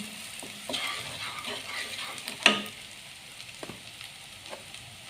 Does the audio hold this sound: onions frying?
yes